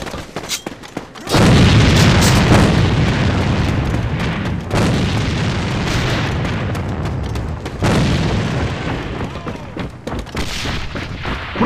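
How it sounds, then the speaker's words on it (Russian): Heavy in-game explosions and gunfire boom through a loud, dense stretch of a multiplayer shooter's Demolition mode, with a thrown grenade detonating among sustained bursts and a few sharp blasts, no voices. "Бросаю гранату."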